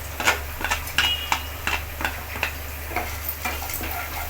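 Onions with curry leaves sautéing in a pan, a soft continuous sizzle broken by a regular rhythm of spatula taps and scrapes, close and moderately quiet.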